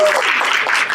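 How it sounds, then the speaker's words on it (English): Close, loud audience applause at a school poetry slam, a dense unbroken patter of clapping lasting about a second. "So huge round of applause to them again for all the work"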